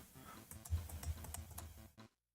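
A computer keyboard clatters with quick, irregular keystrokes during game development coding, the clicks coming close and crisp in uneven bursts before stopping abruptly.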